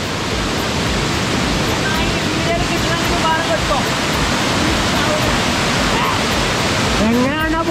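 The Manoori waterfall in Kasaragod roars as a constant broadband rush, with faint voices and high whistles or birdlike chirps rising above it now and then.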